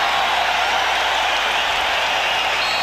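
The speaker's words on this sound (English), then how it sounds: "This capacity crowd at Chicago Stadium looking to pump up the home team" A capacity crowd cheering at Chicago Stadium during a 1992 NBA playoff game between the Bulls and Knicks, a dense, steady roar of applause and voices filling the arena without a break.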